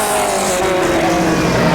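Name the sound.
over-revving 60s F1 car engine in video game rFactor 2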